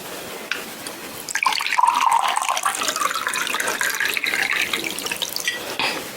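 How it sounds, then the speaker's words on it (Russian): Water pours steadily into a faceted glass, the pitch rising as it fills, a continuous close splashing stream. "Наливаем полный стакан воды."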